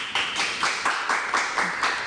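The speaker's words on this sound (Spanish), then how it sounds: "Un aplauso para él, por favor" Studio audience applause on a Peruvian television talk show, a steady patter of clapping with rhythmic swells, fairly close and filling the room, no voices over it.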